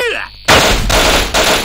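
Rapid bursts of automatic gunfire in the online shooter Paperman, two loud close volleys following a brief electronic tone, with no talking.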